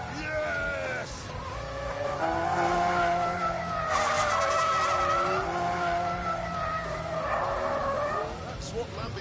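A Lamborghini in The Grand Tour video game drives hard with steady engine drone and tire squeal from skidding, loud and continuous, while a voice talks over it throughout.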